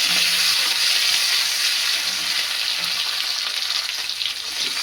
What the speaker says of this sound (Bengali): টমেটোটা নেড়ে নেবো